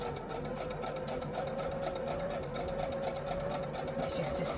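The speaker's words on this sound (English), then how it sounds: "I want to sew over the handles, so just a little bit extra security." A sewing machine stitches over the crocheted handles of a lined tote bag at a long stitch length, its motor whirring steadily and close with a fast, even mechanical chatter throughout.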